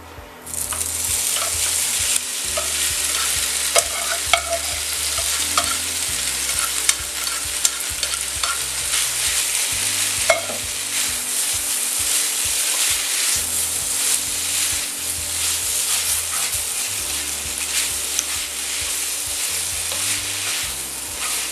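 Vegetables for a duck ballotine with black mushrooms and rice vermicelli fry in hot oil, a loud steady sizzle with frequent stirring and scraping clatter throughout, close up and with no talking.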